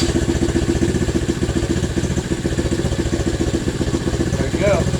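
An SSR 110cc pit bike engine idles close by with a steady, rapid putter and slight clatter that keeps an even throb throughout, alone without talk.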